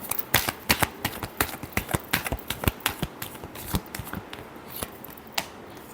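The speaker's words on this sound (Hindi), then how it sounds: "last shuffle" Tarot cards being shuffled by hand in a quiet room, a rapid series of crisp, close riffling clicks and slaps over about six seconds with no talk.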